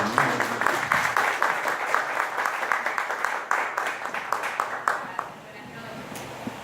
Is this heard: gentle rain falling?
no